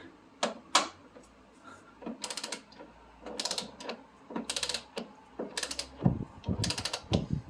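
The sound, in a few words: tightening Toyota MR2 front suspension bolts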